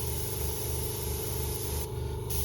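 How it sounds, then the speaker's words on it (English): A steady hiss of air blows from an airbrush onto a model part being coated with Alclad II chrome, continuous and close with no talk. "Just air on the part a little bit, just to dry it off a tad."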